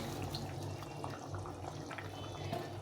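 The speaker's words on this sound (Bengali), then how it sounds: "এখন আমি এর মধ্যে ডিমটা দিয়ে দেবো।" Fried katla fish roe dropped into a simmering curry, with a steady wet bubbling and soft dripping, splashy liquid noise throughout, fairly quiet and close with no talking.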